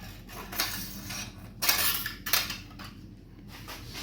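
A circlip is pried off a Seat Leon DSG7 DQ381 gearbox, giving metallic clicks, scrapes and a few sharper snaps at close range, quiet and irregular.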